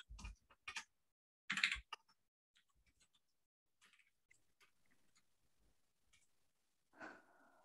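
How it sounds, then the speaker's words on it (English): A computer keyboard being typed on, heard faintly through a Zoom noise filter: sparse bursts of clicks separated by near silence, with soft breathy noise. "is my keyboard really loud right now?"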